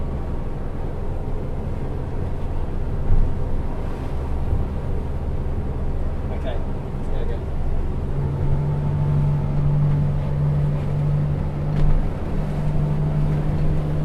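XO 270 Cabin outboard-powered boat running under way at around 3,000 revs, a steady low engine drone and hull rumble that holds constant throughout, with a tone rising slightly partway through.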